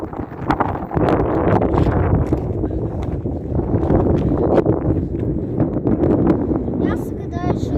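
Strong wind buffets the microphone on Mount Mithridates in Kerch, roaring and gusting loudly throughout while people talk close by.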